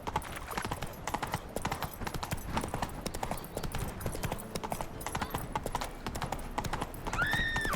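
In The Witcher 3 video game, the horse Roach gallops with rapid, rhythmic hoofbeats that stay close and loud throughout, ending in a brief whinny.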